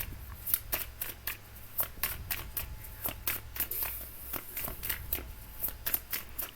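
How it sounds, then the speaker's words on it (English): Tarot cards being shuffled by hand: a quick run of crisp, papery riffles and taps in an irregular rhythm, close but quiet, with a faint low hum beneath and no talking. "Let me shuffle up some more."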